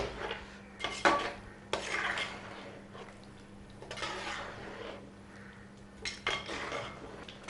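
Chicken stirred with masala in a pan over a high flame, repeated bursts of spoon scraping and clanking against the metal, with a faint sizzle between strokes, close and uneven in rhythm.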